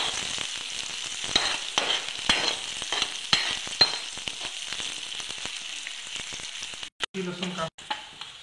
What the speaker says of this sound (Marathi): मोहरी, कांदा तेलामध्ये टाकायचा। तेलामध्ये व्यवस्थित कांदा भाजून घ्यायचा।